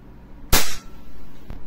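A WE T-Rex Hicapa airsoft pistol fires one sharp, loud snapping shot up close, followed by a much fainter click a second later.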